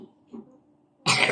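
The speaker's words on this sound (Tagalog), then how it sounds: "Na, rosemary, inuubo ka na." A single sharp cough bursts out near the end, loud and close after a stretch of faint murmuring, from a person in a home kitchen making a festival salad.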